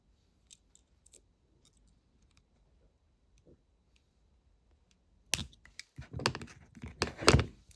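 Steel jewellery wire being snipped with cutters while making a pendant, heard as a few faint clicks early on, then a burst of close, sharp crisp snips and clicks toward the end.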